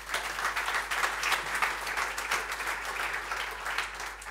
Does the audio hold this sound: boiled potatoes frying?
no